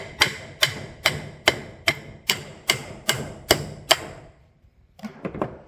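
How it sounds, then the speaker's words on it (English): Nine sharp metallic hammer blows at an even pace knock out front suspension parts, close and loud, followed by a few lighter clanks. "I'm not gonna keep banging on the hammer and on video like that. It's noisy"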